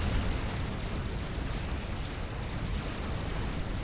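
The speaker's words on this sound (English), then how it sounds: "And the explosion goes up over here." A huge explosion in the strategy game Supreme Commander rolls on as a dense, continuous rumbling roar, loud and sustained for several seconds without speech.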